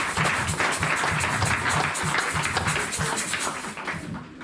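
A church congregation in Toulouse claps loudly and continuously, a close, dense burst of applause that tapers slightly at the end.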